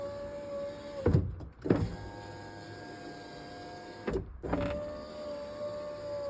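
A Jeep Wrangler JK power window runs on a new regulator in two separate passes, each a short, smooth motor whir with clunks at start and stop, over quiet background hum.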